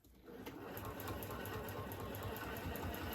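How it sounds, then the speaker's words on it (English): Sewing machine running steadily while stitching along the bottom edge of a ribbon: a fast, even mechanical whir-and-rattle that starts abruptly and holds at a constant pace, close. "I'm going to stitch it along the bottom edge of the ribbon"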